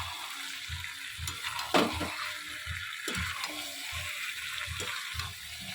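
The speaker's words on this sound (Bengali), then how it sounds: "আলুগুলো দিয়ে আর দু তিন মিনিট একটুখানি কষিয়ে নিই" Potatoes being stir-fried in a pan for a Bengali meat curry, with rhythmic scraping and stirring strokes over a soft sizzle, close and steady, one sharper clatter midway.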